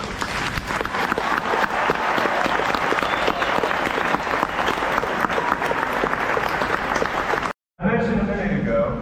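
Navy recruit graduation audience applauds in a large venue, a dense, steady wash of clapping and crowd noise that runs loud for several seconds before cutting off abruptly, followed by a brief burst of voices.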